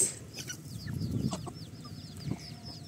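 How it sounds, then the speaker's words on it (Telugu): Free-range country chickens cluck and chirp softly in a loose, scattered chorus while feeding on a farm, with small pecking and rustling sounds nearby. "మా కోళ్ళు లంచ్ చేస్తున్నాయి"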